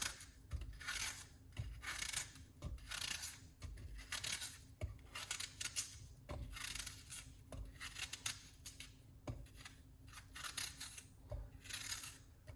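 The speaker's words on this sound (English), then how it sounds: "Cut it up the apple like this." A peeled apple being cut up at home, close, crisp rhythmic knife chops repeating steadily against a board, with no talk over them.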